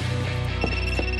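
An electronic telephone rings steadily in a home, a continuous trilling tone that is fairly loud and close, with faint movement behind it.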